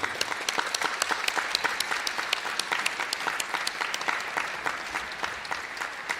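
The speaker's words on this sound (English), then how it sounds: "she deserves a big applause" A hall audience at a piano competition award ceremony breaks into sustained, even applause for the producer, a dense wash of many hands clapping at moderate distance with no voices above it.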